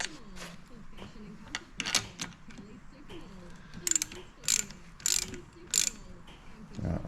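A socket wrench ratchets on nuts of a Peterbilt power take-off unit, giving short bursts of clicking in an uneven rhythm, close by, along with some clanking of metal.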